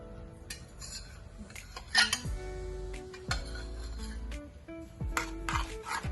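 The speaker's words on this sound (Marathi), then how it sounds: "आता आपण ह्याच्यामध्ये पीठ सर्व टाकून घेऊया, मिक्स करून घ्यायचं आहे सर्व" A spoon clinks and scrapes around a metal pot in uneven strokes as flour is stirred into boiling water, with a low bubbling rumble beneath; no voices.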